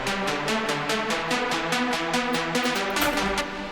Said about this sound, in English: And make it a square.